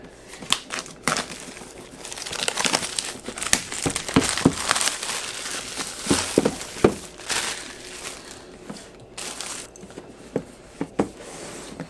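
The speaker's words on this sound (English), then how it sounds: "It's got like a plastic cellophane wrap. We'll go ahead and pull this off here." Plastic cellophane wrap pulled off the white box of a solar-powered backup camera: close, busy crinkling and crackling with irregular sharp crackles and rustles continuing throughout.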